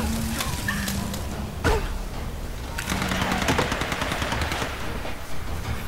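Rifle gunfire in Tomb Raider (2013), with rapid bursts of shots crackling over a dense background of game sound and ambience, loud and sustained.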